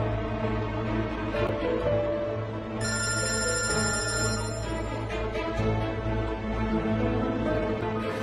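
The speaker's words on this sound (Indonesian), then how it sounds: "Akhirnya kamu angkat juga telepon aku, Aulia." A telephone rings in an Indonesian drama scene, a sustained electronic ringing tone that repeats over background music, loud and near, with no talking during the ring.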